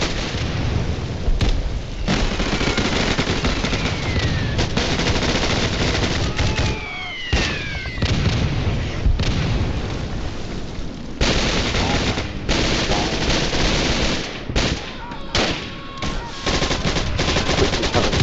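Artillery bombardment in the Roblox game Scorched Earth, with repeated loud booms and bursts of gunfire crackling across a dense, continuous barrage, some sharp impacts standing out and short gaps between volleys.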